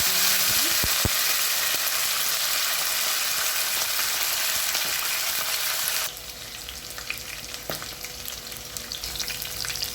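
Green chillies, chopped onion and curry leaves frying in hot oil for a mushroom curry, a loud steady sizzle close up that drops slightly partway through, with occasional stirring scrapes and no talk.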